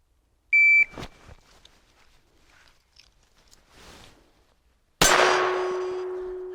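A small pistol fires CCI Standard Velocity rounds during a fast-draw run. A short electronic timer beep and some faint handling clicks come first, then a single sharp shot with a loud, long-ringing metallic clang from a struck steel target.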